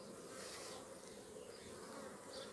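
Honeybees inside an opened hive hum in a continuous, even drone, a soft steady buzz with no pauses.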